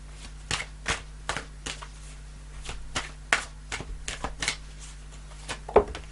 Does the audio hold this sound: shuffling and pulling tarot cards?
yes